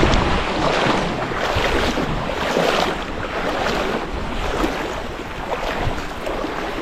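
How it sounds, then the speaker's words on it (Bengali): A small wooden boat is rowed on open sea water, with steady washing and splashing of water against the hull under gusts of wind buffeting the microphone, continuous and close. "আবার নৌকা শুরু করলাম বাওয়া"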